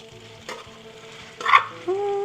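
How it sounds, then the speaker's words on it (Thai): Fish and pounded curry paste stir-fried in hot oil for a Thai khanom jeen curry sauce, with a soft sizzle, a few scraping stirs of a utensil and a brief louder hiss, close up. "เอาน้ำมันลงไปเลยค่ะ เอาปลา พวกเครื่องนี่ที่เฮาตำไว้นะจ๊ะเนาะ ใส่ลงไปคั่วใส่กันเลยค่ะ"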